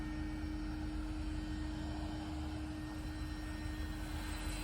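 A small radio-controlled Sport Cub S2 model airplane drones steadily overhead, a constant whining motor tone against a windy, noisy background, fairly faint and distant.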